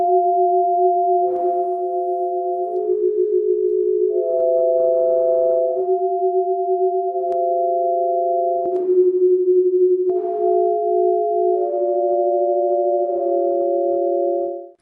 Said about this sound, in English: I really enjoy creating like sound portraits of people